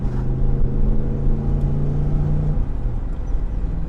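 A Pontiac Fiero fitted with a crate V8 engine accelerates, its loud, close engine note holding steady and then easing off partway through, with no talking.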